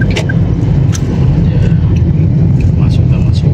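Steady road traffic rumble of a lorry and cars moving fast on a busy road, heard continuously from inside a vehicle with people talking over it.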